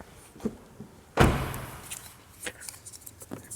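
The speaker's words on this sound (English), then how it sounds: "Close this door." A Toyota car door shuts with a single solid thump, preceded by a few light clicks and handling taps, close and fairly quiet.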